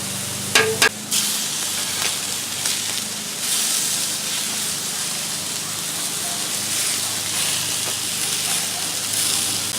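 Zoodles sizzling on a Blackstone griddle give a steady, loud frying hiss that fills the whole stretch, with a couple of sharp clatters near the start.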